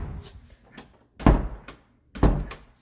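A household door being repaired swings shut, with two solid thunks about a second apart after some light rattling and handling noises, close by.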